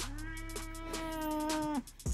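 A grumpy cat lets out one long, drawn-out meow, loud and close, while being groomed with a haircut and shave, followed by a brief rustle.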